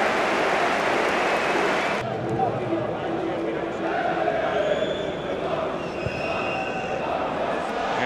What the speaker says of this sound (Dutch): wat kan je eraan doen? Applaus.